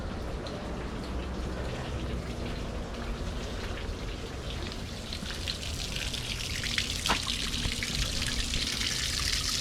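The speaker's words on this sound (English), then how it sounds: "Put on the water, and I know I have to actually put this one in idle for it to push water through the motor." Water from a hose runs steadily through an idling boat outboard motor during maintenance, a continuous splashing, hissing wash that stays loud and even throughout with no talk.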